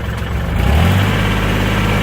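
A used 2017 Kubota L4018 tractor engine runs loud and close, a steady diesel drone whose pitch climbs slightly as it is revved, with no talking.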